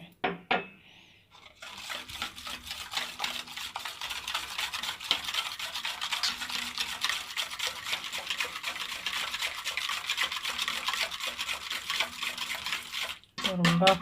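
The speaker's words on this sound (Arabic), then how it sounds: "تعالوا هنا بقى وننزل بكوباية المية" Cup of water poured into pastry dough for quick winter pies, a steady running, sloshing pour with stirring and rubbing sounds lasting most of the clip, close by.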